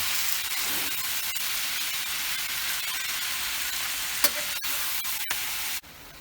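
Cheesesteak meat frying in a pan and being turned, a steady broadband sizzle with a few sharp scraping clicks of the utensil, close and continuous until it cuts off near the end.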